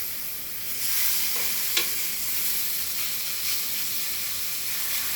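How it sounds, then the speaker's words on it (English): Meat sears hard and fast in a hot pan in a smokehouse kitchen, a loud, continuous hissing sizzle that swells early and holds steady, with a single brief clink and no speech. "A cut of meat like this, you want to sear pretty hard, pretty fast."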